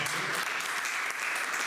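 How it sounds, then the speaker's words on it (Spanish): Strong, steady applause from an audience at a Spanish book presentation, dense clapping filling the whole short stretch without a break. "quiero que le deis un fuerte aplauso a Teresa."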